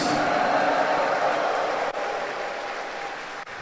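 A Catholic congregation at a Sunday evening Mass applauds for Jesus, making a smooth, continuous wash of many hands clapping together, steady and fairly loud, with two brief dropouts.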